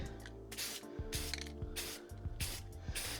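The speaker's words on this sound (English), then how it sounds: "We're going to be using Rust-Oleum 2X Ultra Cover paint and primer in semi-gloss white." Rust-Oleum 2X Ultra Cover semi-gloss white paint and primer hisses from a spray can in about six short, even bursts, each with a faint nozzle click, heard close up with no talk.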